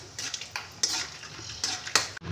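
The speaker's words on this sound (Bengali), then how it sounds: "সাদা তেল দিয়ে দিয়েছি, কয়েকটা আমি বাদাম ভেজে নিচ্ছি।" Peanuts being fried in white cooking oil in a pan, with a soft hiss under repeated clinks and scrapes of a utensil stirring against the pan, close by and brief.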